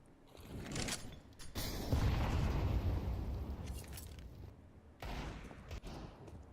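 Desert Eagle pistols and other gunfire crackle through a competitive Counter-Strike style video game match, with dense overlapping shots and blasts building loudly, easing, then a fresh burst near the end.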